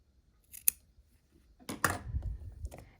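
Scissors snip through quilt fabric to trim the overhang of a sewn seam: a few quiet, separate cuts, up close with no talking, the last cut longer and rustling.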